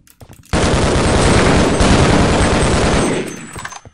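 Sustained automatic gunfire in Half-Life: Opposing Force, a loud unbroken burst of rapid shots lasting about two and a half seconds, then trailing off.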